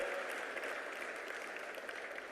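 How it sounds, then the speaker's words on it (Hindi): Faint, distant audience applause at the Rising Rajasthan Summit 2024 MSME Conclave welcomes a guest minister, a steady soft wash of clapping that holds evenly for a couple of seconds. "एक बार जोरदार तालियों से उनका स्वागत और अभिनंदन"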